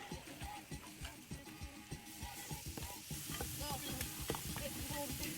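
Chopped steak sizzles loudly on a Blackstone griddle for Philly cheesesteak hoagies, with a metal spatula scraping and tapping the flat-top in an irregular rhythm as a fresh batch of meat is added.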